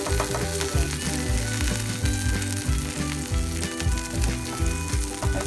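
A slice of bread fries in butter in a pan, giving a loud, continuous close sizzle with crackling that runs steadily throughout.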